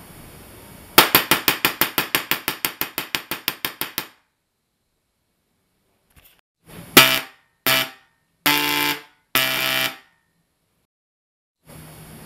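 A solid state Tesla coil fires at 80 volts with a 6 Hz pulse, giving a fast train of sharp buzzing crackles. After a silent pause come several separate, louder arc bursts, close up.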